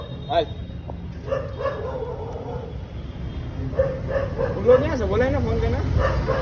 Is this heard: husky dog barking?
yes